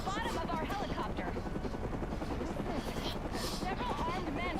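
A helicopter in a Batman Arkham video game, its rotor chop a steady loud thrum throughout, with a voice speaking over the noise.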